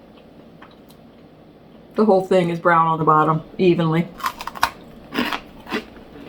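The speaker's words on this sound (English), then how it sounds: "That was the crunch I was looking for." A giant baked cookie snaps apart with a few crisp, crunchy cracks just after a person speaks, followed by quieter crumbling handling sounds.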